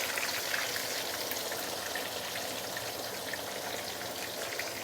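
Tofu frying in hot oil in a home kitchen, a steady, dense sizzle and crackle that holds even and moderately loud throughout, with no talk.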